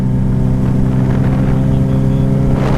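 A 300 hp turbocharged Suzuki Hayabusa motorcycle drones at high, steady revs in first gear, heard up close and loud for about three seconds with a dense, even engine tone and no voices.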